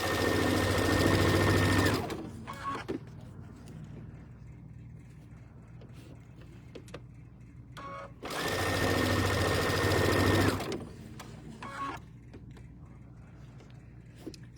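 Sewing machine stitching side seams runs in two steady, loud whirring bursts of about two seconds each, separated by quieter pauses filled with light handling clicks.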